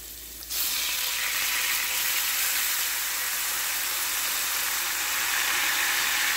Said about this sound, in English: Then wine. That simmer.